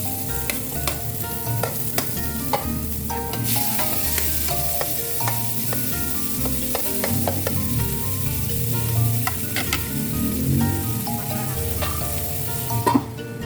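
Onion and garlic sautéing in a pan for a Filipino coconut-milk milkfish dish, a steady close sizzle with frequent scraping and stirring clinks throughout, no talk.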